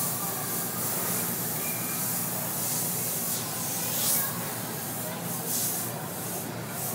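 An airbrush spraying paint for script and graffiti lettering gives off a steady, close hiss with no breaks, swelling faintly now and then.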